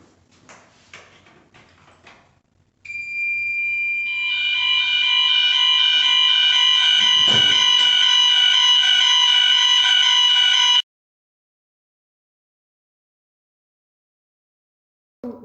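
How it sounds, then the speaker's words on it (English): Building fire alarm bells ring loudly and steadily for about eight seconds during a weekly test, then cut off abruptly into silence, with faint shuffling before they start. "We've shown you what the sound of the fire bells sounds like."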